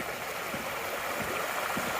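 A creek flows beneath a bridge on the Appalachian Trail in a steady, broadband rush of water with faint gurgles, heard up close and without voices.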